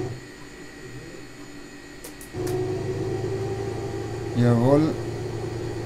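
A Beech Baron 58 engine starts in the FSX flight simulator game: a low background hum abruptly steps up midway into a steady, throbbing engine drone, with a brief spoken word over it near the end.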